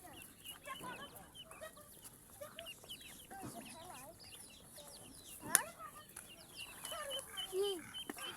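Chicken chicks peep and cluck among ducklings at a rural home. The calls come as scattered, fairly soft chirps, with occasional louder calls and a brief sharp peak, and no talk is heard.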